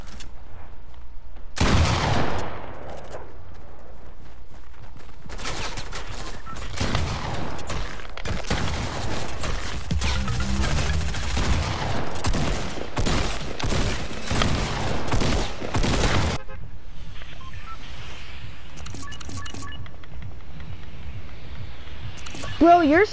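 Video game shotgun blasts fire in a rapid, repeated string of loud booming shots through most of the stretch, with talking mixed in, before fading to quieter background noise.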